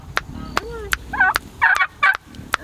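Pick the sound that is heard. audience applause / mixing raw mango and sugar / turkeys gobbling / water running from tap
turkeys gobbling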